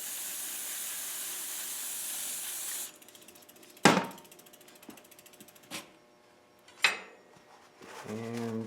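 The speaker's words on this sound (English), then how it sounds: "I want to give this brake rotor one more cleaning." Tektro Auriga Pro bicycle brake rotor being cleaned: a loud steady hiss of spray fills the first three seconds, then comes a series of sharp metallic clicks and ratcheting taps, ending in a brief rattle.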